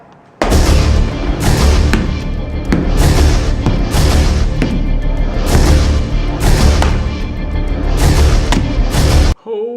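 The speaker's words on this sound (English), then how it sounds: "his phone stopped working and he decided to smash it" A broken phone is struck again and again, about eight loud, heavy smashing impacts in an uneven rhythm, each a harsh crash, with no talking.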